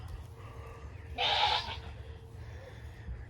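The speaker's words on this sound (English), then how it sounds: "Oh, more baby goats." A single baby goat on a goat farm lets out one clear bleat lasting about half a second, fairly near, against a quiet outdoor background with low rumble.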